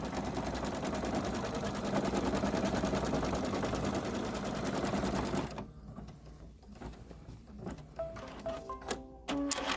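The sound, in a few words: embroidery machine stitching a shamrock coaster in the hoop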